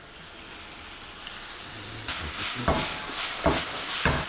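Mushrooms sizzle steadily in a hot pan, growing louder and denser partway through with bursts of crackle as they fry.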